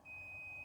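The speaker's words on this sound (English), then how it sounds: "So my apologies for the beeping in the background." A household dishwasher gives one steady electronic beep held for well over half a second, faint in the background of a quiet room with no talking.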